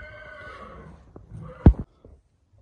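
A Don breed horse used in ulak horseback games gives a fading whinny at the start, with faint stable noise and a sharp close thump afterward.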